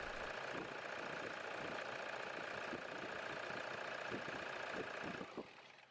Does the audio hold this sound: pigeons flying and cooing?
no